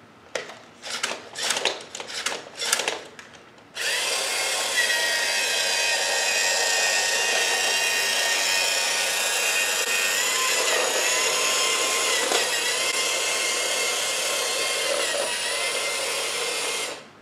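The motors of a Lego Mindstorms EV3 31313 R3PTAR robot produce a few short whirring bursts, then run continuously as a loud, steady, high-pitched electric whine up close.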